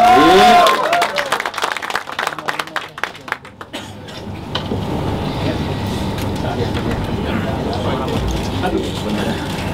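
An audience at a Democratic Party convention press event applauds after loud opening sounds and scattered claps; the clapping then settles into a steady, moderate crowd applause that carries on to the end.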